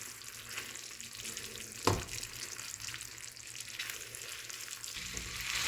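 Spiced liver being stirred on a hot tawa with garam masala, crushed red chilli and chaat masala, giving a steady close sizzle of frying with scraping and stirring noises and one sharp clack of the spatula.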